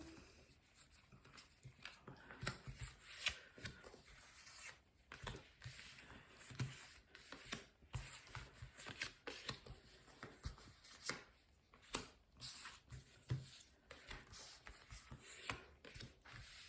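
Tarot cards are shuffled and laid out for a nine-card spread, giving soft, irregular riffles, slaps and papery brushes close by and fairly quiet, with no talking.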